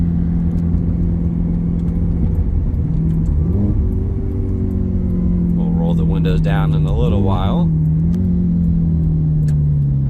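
A 2007 Ferrari F430 Berlinetta cruising with a steady low engine drone and road rumble from inside the cabin, the pitch dipping and shifting slightly as it drives, while someone talks over it.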